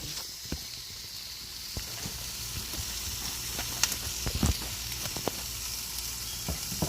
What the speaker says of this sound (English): Since my vegetables have really already gotten sauteed well, I'm just going to take some time and mix that in.